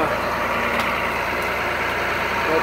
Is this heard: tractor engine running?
yes